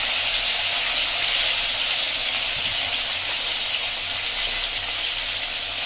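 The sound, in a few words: fish frying in hot mustard oil in a wok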